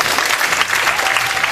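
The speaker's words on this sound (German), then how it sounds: "Von mir gibt es auf jeden Fall den ironiefreien Applaus der Woche für YouTube." A burst of steady crowd applause, loud and continuous throughout with no talking over it.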